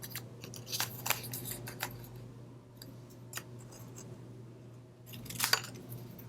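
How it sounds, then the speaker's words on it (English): Scissors snipping scrap paper into small banner flags, a few crisp close cuts in two clusters separated by quieter handling and rustle, no talking. "I'll cut 2 more because I want 5 little flags hanging off my banner."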